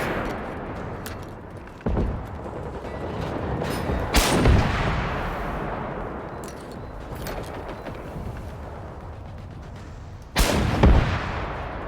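A bazooka fires in Generation Zero, its booming blasts landing as sharp, loud thumps at a few spaced moments over a continuous rumbling battle background, with no one talking.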